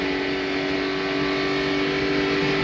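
NASCAR stock cars racing in the 2001 Pepsi 400 at Daytona, a steady loud roar of engines under race traffic with a sustained droning tone throughout, no talk.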